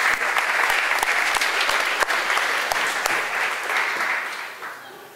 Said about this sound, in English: let's another big round of applause for Scott and Ronnie here